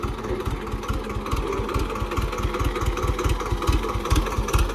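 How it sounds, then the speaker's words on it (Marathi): A Swaraj tractor engine idles in low gear, a close, steady diesel chug with a regular low thumping pulse running throughout at even loudness. "idle RPM, low gear"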